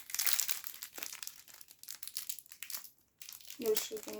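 Someone tears open a crinkly plastic toy packet bought at ATB, producing close, bursty crackling and rustling, while people talk and react nearby.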